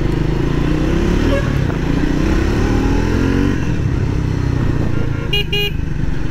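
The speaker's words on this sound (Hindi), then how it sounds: "अच्छा लाउड आपके पास में हॉर्न" A Triumph Speed 400 motorcycle engine runs steadily, then its horn gives two short, sharp honks near the end.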